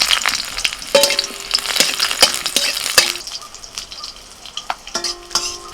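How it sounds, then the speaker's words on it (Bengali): Whole garlic cloves with green and dried chillies frying in a little oil in a wok, loud crackling sizzle broken by spatula scrapes and sharp metallic clinks. "কড়াইতে অল্প তেল দিয়েছি, তেলের মধ্যে দিচ্ছি গোটা রসুন, 3টে কাঁচা লঙ্কা, 3টে শুকনো লঙ্কা"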